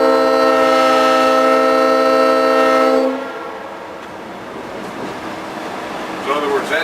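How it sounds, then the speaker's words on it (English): A locomotive whistle blasts loud and steady for about three seconds inside the cab, then gives way to rumbling engine and track noise with a voice speaking near the end. "Blow the whistle."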